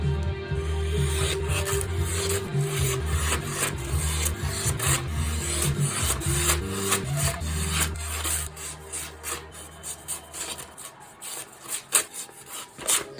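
A Squid Industries Krake Raken V2 knife in inked gunmetal grey is run through material to test how sharp it is, giving close, continuous rasping slices over a low hum that fades out partway through.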